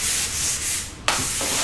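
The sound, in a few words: sanding a painted MDF cradle board with 400 grit sandpaper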